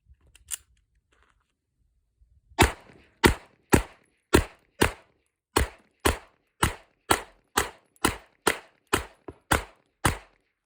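Pistol firing SIG Elite Performance 115 grain FMJ rounds in a rapid, even string of about fourteen sharp close shots after a short pause, each report crisp and loud.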